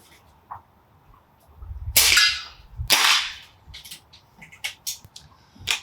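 A BSA Meteor Evo air rifle fires at a 20-meter target outdoors: a sharp, loud crack, followed about a second later by a second broadband burst, with light rustling and faint background sounds around them.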